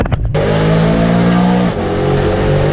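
A BMW M3 accelerates hard nearby, its engine revving loud and rising in a sustained harmonic roar with a brief dip in pitch partway through, dominating with no talk.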